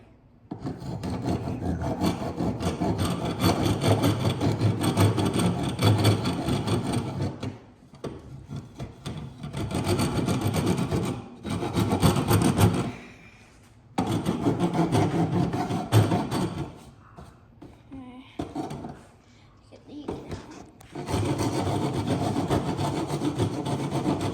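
A file rasps back and forth across the tip of a scrap wood mallet in long, loud, close stretches of steady scraping, broken by a few short pauses.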